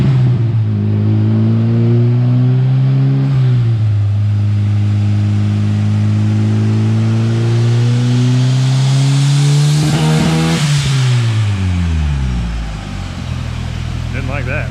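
A car spins on a chassis dyno on old, worn tires, its engine droning loud and steady with rising and falling revs, a sharp climb near the end before it drops off.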